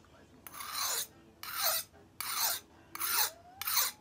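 A hand file rasps across a steel knife blade shaped on a belt grinder, in five close, even strokes with short pauses between them. The strokes are harsh and scraping, and no one speaks.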